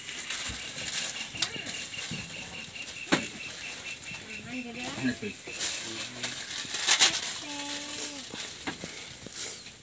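A flock of birds flutters and flaps over a rice field at harvest time, wingbeats rising and falling close by amid a busy outdoor wash, with some bird calls and faint voices nearby.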